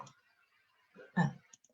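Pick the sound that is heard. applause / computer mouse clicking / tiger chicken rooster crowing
computer mouse clicking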